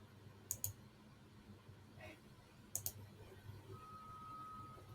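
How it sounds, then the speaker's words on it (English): Mouse clicks while saving settings in Copilot Studio on a computer: a few sharp, close clicks in two quick pairs, quiet and isolated, with no talking. "click on save"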